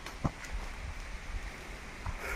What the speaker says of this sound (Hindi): घना जंगल में बारिश होते आप मन देख सकत हो।